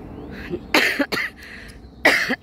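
Several harsh coughs in short bursts, close to the listener, with brief pauses between them and no talking, from a hiker out of breath on a hiking trail in Homantin, Hong Kong.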